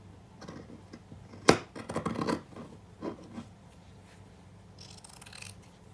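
Scissors cutting through T-shirt fabric for trapilho yarn, close and quiet, with a sharp snip followed by a cluster of rustling cuts and a few fainter snips in a quiet room.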